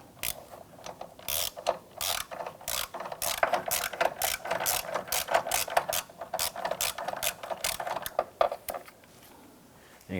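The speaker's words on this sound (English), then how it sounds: "Using our 13mm socket and extension, we want to go down in the front side of the battery and we want to loosen" Rapid ratchet clicks from a 13mm socket wrench with extension loosening the battery hold-down clamp bolt on a 2007-2012 Nissan Versa, repeated in steady bursts close to the listener with no talking.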